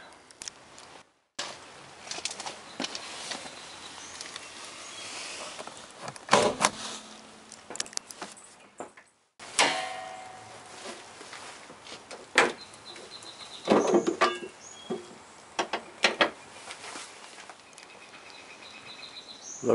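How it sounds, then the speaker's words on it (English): A Toyota Prius with a dead 12-volt battery has its door opened and its hood latch released: a few scattered clicks, clunks and thumps, fairly quiet and close, separated by stretches of near silence, with no talking. "Open the door and release the hood latch."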